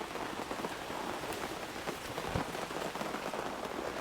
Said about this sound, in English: But then it's also nice having the rain as well for a bit.